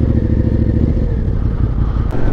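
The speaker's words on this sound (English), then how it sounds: "every time I downshift, I give it like a good amount of throttle just so it could rev match smoothly" A Suzuki SV650 motorcycle engine rumbles loud and close during a downshift, with a quick throttle blip to match revs near the end.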